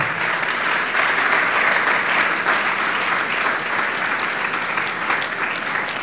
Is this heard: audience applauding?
yes